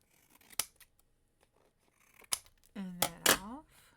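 Scissors trim a piece of paper for a card-making project with a few sharp, close snips spread across a quiet moment, and a brief voice sounds near the end.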